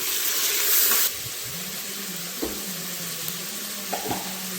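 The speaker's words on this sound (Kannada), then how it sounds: "ಈಗ 2 ಮೀಡಿಯಂ ಸೈಜ್ ಟೊಮೆಟೊನ ಕಟ್ ಮಾಡಿ ಇಟ್ಕೊಂಡಿದ್ದೀನಿ ನಾನು. ಅದನ್ನ ಹಾಕ್ತಾ ಇದ್ದೀನಿ." Two medium chopped tomatoes drop into hot oil with fried green chillies in a pan for soya chunks pulao, setting off a steady close sizzle after a louder initial burst.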